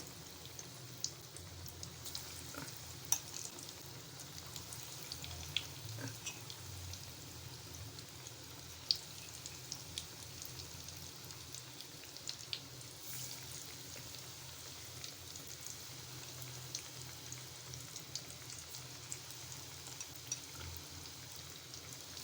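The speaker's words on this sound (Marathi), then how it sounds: "आता आपण पिठात बुडून ठेवलेली भेंडी अशी आपण तेलात तळून घेणार आहोत" Batter-coated okra fritters deep-frying in hot oil, a faint continuous bubbling sizzle with small scattered pops, steady throughout with no voices.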